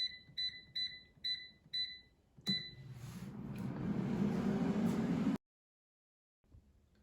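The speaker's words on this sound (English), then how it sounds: "Now the air fryer is done cooking, so let's take a look at the sausage patties." An air fryer cooking sausage patties at 390 degrees gives five quick electronic beeps, then a fan whir that swells and holds steadily before cutting off abruptly into silence, followed by a faint brief sound.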